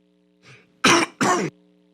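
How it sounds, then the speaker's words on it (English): A short throat-clearing followed by two sharp, close coughs in quick succession, over a faint background hum. "I talk so much, I'm coughing myself up."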